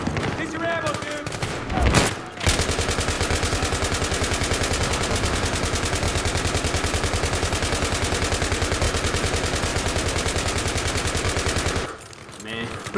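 Sustained automatic gunfire fills a Battlefield 3 match on Xbox One, a loud continuous rapid-fire rattle lasting about ten seconds. It starts after a brief burst and a gap and cuts off near the end.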